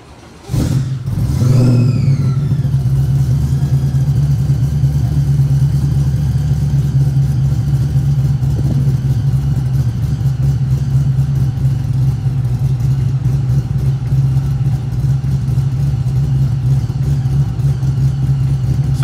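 A 1969 Chevrolet Camaro SS V8 engine fires up and settles into a loud, deep, rumbling idle that continues steadily, with a brief throttle blip early on.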